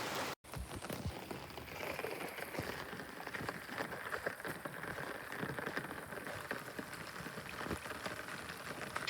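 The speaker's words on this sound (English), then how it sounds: "we started experiencing showers of rain" Rain showers fall on a small home garden, a steady close patter of drops hitting surfaces that runs unbroken for the whole stretch with no voices.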